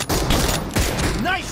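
Rapid gunfire bursts in BGMI (Battlegrounds Mobile India) battle royale gameplay, loud and close, with a short pause between volleys and game voice cues in the mix.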